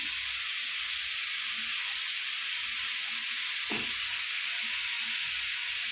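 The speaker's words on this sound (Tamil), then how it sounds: "இப்போ நல்லா கிளறி விடணும் தேவையான உப்பு போட்டுக்கணும்" Curd snake gourd stir-fry sizzles in a pan with a steady, loud, even hiss through the whole stretch, one brief scraping knock of stirring partway through, and no talk.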